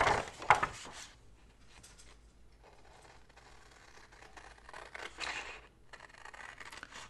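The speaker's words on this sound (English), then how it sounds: "So we're just gonna cut it with scissors." Scissors cutting paper for a planner spread, with close, quiet snips and scraping blade sounds in short bursts and pauses between them.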